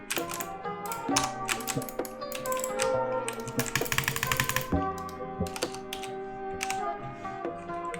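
Mechanical computer keyboard typed on in quick irregular bursts of crisp clacks, close and fairly quiet, with some busier flurries and no talking.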